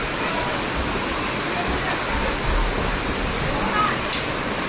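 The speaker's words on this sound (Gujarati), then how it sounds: "કેવો વરસાદ આવ્યો" Heavy rain pours down in a dense, constant roar that fills the whole clip without a break.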